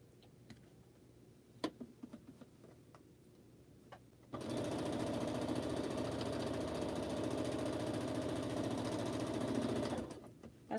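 A sewing machine stitches through quilt blocks in one continuous, fairly loud run of about six seconds, preceded by quiet room sound with a few small clicks and ending abruptly.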